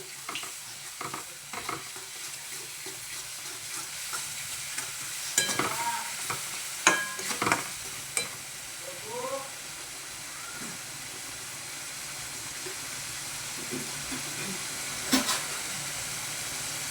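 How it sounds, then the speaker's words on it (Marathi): Garlic greens and spinach sizzling and being stirred in a pan, a steady soft frying hiss broken by scattered scrapes and clinks of a spoon, heard close and fairly quiet with no talking. "लसूणची पात आणि पालक आणि चांगला आपण खरपूस भाजून घेऊ"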